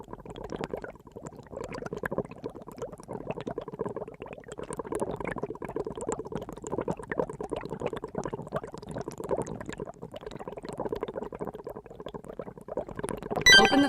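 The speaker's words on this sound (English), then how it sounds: "Press the coffee pot button to boil water." Water bubbles and simmers steadily in an electric kettle, a continuous close rolling boil that grows slightly louder near the end.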